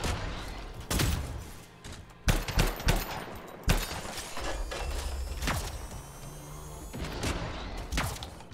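Gunfire from the video game Anthem: scattered sharp shots and short bursts, some loud and close, others softer, spaced irregularly across the stretch with mechanical clatter between them and no speech.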